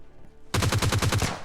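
Rapid automatic gunfire rings out in PUBG Lite as an enemy is knocked down, a quiet pause giving way to a loud, steady burst of about ten evenly spaced shots.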